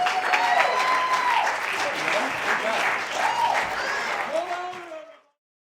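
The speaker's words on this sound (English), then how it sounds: "keep clapping until I get to the microphone" A comedy club crowd in Grand Rapids claps and cheers between comedians, sustained applause that carries on under a voice and then cuts off abruptly near the end.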